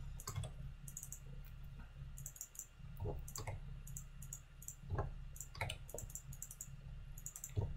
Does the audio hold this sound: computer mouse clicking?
yes